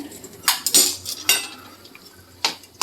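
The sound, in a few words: stirring sheera in a pot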